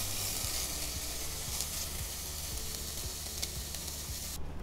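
A cooked vegetable mixture sizzles in a pan while being stirred, a quiet steady frying hiss with soft repeated scraping strokes of the spoon, no voices.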